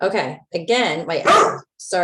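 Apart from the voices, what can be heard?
dog barking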